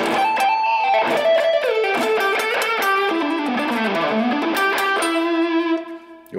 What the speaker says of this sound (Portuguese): O som que eu uso aqui é um pouquinho de reverb, um pouquinho não, é bastante reverb